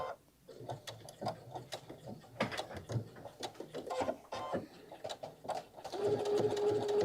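A Soprano sewing machine stitching fabric for a wine carrier, close and quick, in bursts of rapid mechanical ticking with short pauses, then settling into a steadier whirring run.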